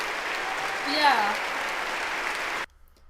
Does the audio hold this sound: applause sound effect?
yes